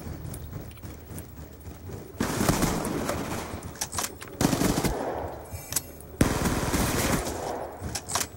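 Rapid bursts of automatic gunfire from a rapid-fire gun in Call of Duty: Black Ops 2, loud and close, with dense rattling volleys and short pauses between them.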